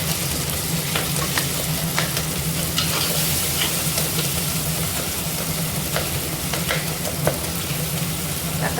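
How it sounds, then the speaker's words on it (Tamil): Tomatoes sauté in a hot pan, a loud, dense, continuous sizzle heard up close, with intermittent scrapes as they are stirred. "தக்காளி நல்லா வதங்கிடுச்சு."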